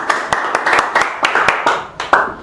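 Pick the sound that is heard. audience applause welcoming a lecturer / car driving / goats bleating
audience applause welcoming a lecturer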